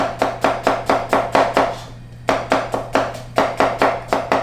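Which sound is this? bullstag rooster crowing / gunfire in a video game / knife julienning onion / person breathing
knife julienning onion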